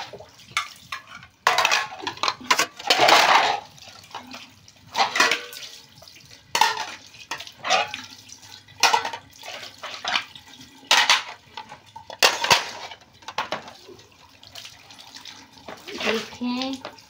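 Dishes being washed at home under a running tap, with water splashing and pots, pans and cutlery clattering in bursts throughout; a voice is heard intermittently over the washing.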